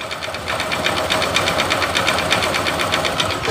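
A Honda motorcycle engine idling without throttle, a fast, even ticking and knocking piston clatter, close and steady throughout.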